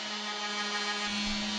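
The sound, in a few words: drill boring a hole in wood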